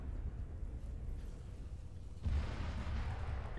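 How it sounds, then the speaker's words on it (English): An explosion in the ArmA 3 military game lands at a distance: a quiet, low rumbling backdrop that suddenly swells into a heavier, broader boom partway through and then keeps rolling. "It exploded."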